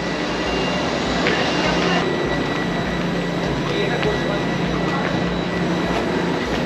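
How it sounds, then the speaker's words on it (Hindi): An Italian Intercity Express train to Salerno produces a loud, continuous roar and rumble that holds steady throughout, heard from nearby. "ये वाली है इंटरसिटी एक्सप्रेस"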